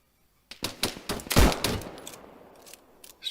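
A heavy-recoil gun in a military shooter fires a rapid burst of loud, close shots, each crack followed by a short echoing tail, then the reports thin out into scattered trailing shots.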